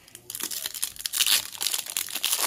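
A 2019 Topps Update hobby trading card pack is ripped open close up, with loud crinkling and tearing foil that crackles continuously for a couple of seconds.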